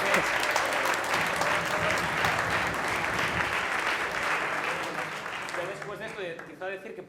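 Audience applause at a medical faculty event, a dense sustained wash of clapping that thins toward the end as a voice begins speaking over it.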